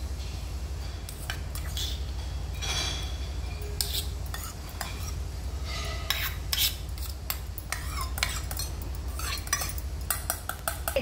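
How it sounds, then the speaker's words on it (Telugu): Sesame seeds are stirred into rice flour dough in a metal bowl, giving an ongoing scraping and clinking of a spoon or hand against the bowl, with irregular rubbing bursts over a steady low hum. "ఇప్పుడు ఈ పిండికి సరిపడా నువ్వుల్ని దీంట్లో వేసుకుంటున్నాను"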